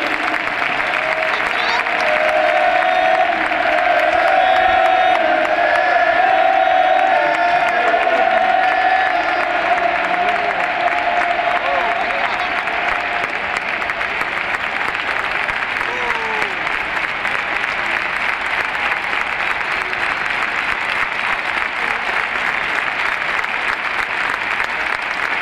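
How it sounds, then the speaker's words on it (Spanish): A stadium crowd at Benito Villamarín applauds steadily for a returning number 10 player at a Real Betis match against Levante, a dense, continuous wash of clapping that holds at full strength throughout with faint cheering mixed in. "Aplauso de todo el Benito Villamarín a nuestro número 10, Edu"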